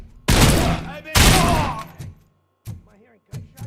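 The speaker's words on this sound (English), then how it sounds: "Am I hearing gunshots?" In RoboCop: Rogue City, two long, loud bursts of rapid gunfire are followed by a pause and a few shorter, quieter shots, with a voice briefly heard between them.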